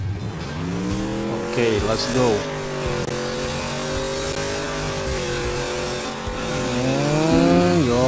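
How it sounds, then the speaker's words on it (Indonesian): A monster truck engine in the MX Unleashed racing game revs continuously with rising and falling pitch, loud and steady throughout, while someone talks over it. "Monster truck, guys."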